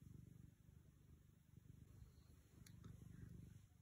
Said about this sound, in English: I don't know if you can hear her purring,